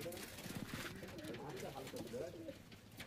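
Rampuri pigeons in a loft give soft, repeated low cooing, faint and close. Someone talks over them the whole time.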